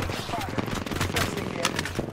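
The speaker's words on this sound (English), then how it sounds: "I'm taking fire." Rapid video-game gunfire crackles in dense bursts of sharp shots, fairly close and continuous, while a player talks over it.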